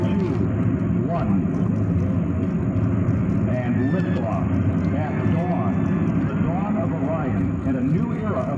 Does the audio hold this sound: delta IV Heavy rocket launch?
yes